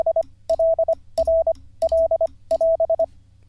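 Morse code tones spelling the letter L, a steady pitched beep repeated in five groups of short and long pulses with gaps between, loud and close with a faint low hum beneath.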